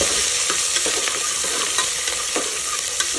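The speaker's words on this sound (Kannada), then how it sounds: "ಈಗ ಎತ್ತಿಟ್ಕೊಂಡಿರೋವಂಥ ಕರಿಬೇವು, ಕ್ಯಾರೆಟ್, ಬೀನ್ಸ್ ಮತ್ತು ಹಸಿಮೆಣ್ಸಿನ್ಕಾಯಿ ಹಾಕಿ ಬಾಡಿಸ್ತಾ ಇದ್ದೀನಿ." Curry leaves, carrot, beans and green chilli sauté in a hot pan, giving a steady close sizzle with scattered scraping stirs and small crackles throughout, no voices.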